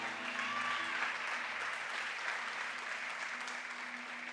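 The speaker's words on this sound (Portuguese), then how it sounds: "E aplauda a presença de Jesus nesse lugar" A church congregation applauds during a worship service, steady mid-level clapping spread across the room with a faint sustained musical tone underneath.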